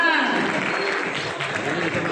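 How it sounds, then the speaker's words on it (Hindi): Applause from an audience at an award ceremony honouring women blood donors, a dense close clapping that fills the whole short moment, fairly loud and steady. "जोरदार तालियां भी बजाइए यार।"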